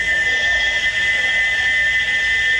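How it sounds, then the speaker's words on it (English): A steam locomotive whistle blows steadily and loudly without a break, a single sustained shrill tone held from start to finish with no talk. "he wouldn't stop whistling until workmen climbed up his whistle valve and hammered it into place"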